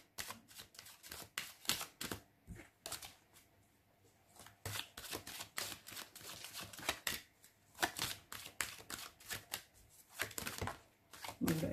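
Oracle cards are shuffled and drawn by hand, giving rapid riffling flicks and snapping card slaps in bursts with short pauses between them, close and crisp with no speech.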